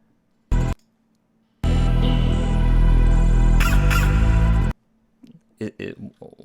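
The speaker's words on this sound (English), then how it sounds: "that duck noise, let's call it a duck noise" Duck-like synthesized noise sample in a music production, a loud sustained honking, squawking tone lasting about three seconds after a short burst, followed by a few brief quieter blips.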